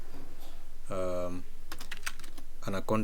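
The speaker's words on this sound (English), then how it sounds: "you can just go in the search bar and type in Anaconda" Keys clatter on a computer keyboard in short bursts of quick typing, close and crisp, with a voice talking between the bursts.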